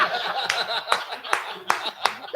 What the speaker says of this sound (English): Come on, that's worth a round of applause